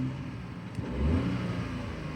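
A Ford Focus EcoBoost engine, 84,000 miles on it, idles steadily with a low, continuous rumble that swells slightly midway, close by with no voices.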